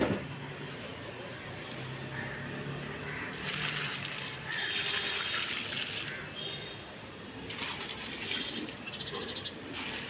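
Garden plants are watered on a hot sunny morning, with a rushing spray of water in two longer bursts over a steady outdoor hiss.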